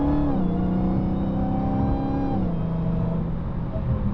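Supercharger whine from a Dodge Challenger Hellcat Redeye heard from inside with the windows up, a loud steady engine drone with a high tonal whine that dips in pitch partway through as the revs fall.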